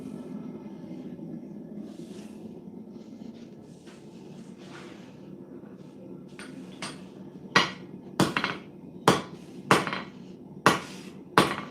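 A hammer rings out against a hot cut at a metalworking forge, striking about seven sharp, loud blows at a steady pace after a stretch of quieter shop noise.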